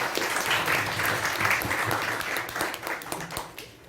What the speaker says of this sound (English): Let us give her a round of applause for it.